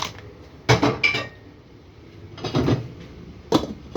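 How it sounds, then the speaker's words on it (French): A saucepan lid closes over mussels simmering with parsley and a little water, giving a few separate metallic clinks and clatters of pots, close by, with quiet gaps between them. "Et je ferme ma casserole."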